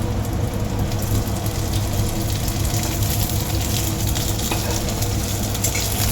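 Onions sizzle and fry in a hot pan for chilli paneer: a steady, close, fairly loud crackling hiss that runs unbroken, with faint stirring under it and no voices.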